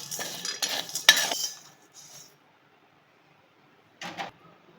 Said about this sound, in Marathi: मोठं मीठ घेतलेलं आहे आपण आता भाजून घेऊया